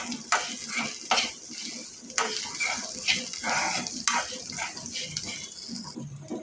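Okra boondi frying in hot oil in a pan, a steady close sizzle broken by regular scraping stirs roughly once a second, with no voices.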